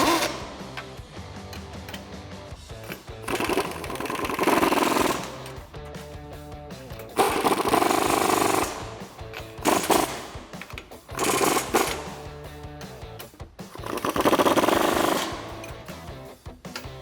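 Bolts, 13mm ones among them, are tightened while a heavy-duty brush guard is mounted on a 2015-2018 Ford F150. Loud, close bursts of rapid mechanical rattling alternate with quieter gaps.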